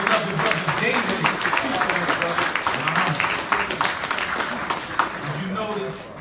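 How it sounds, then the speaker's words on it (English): A congregation at a mosque applauds in a sustained burst of clapping mixed with voices and cheers, fading slightly toward the end. "Let's give another round of applause to our beloved brother David."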